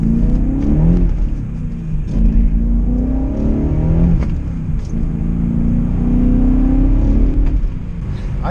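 A BMW M5 E39 with freshly repaired timing chain guides drives and accelerates on a low-traction surface, its engine rumbling steadily with rising and falling revs throughout, close and fairly loud with no talking.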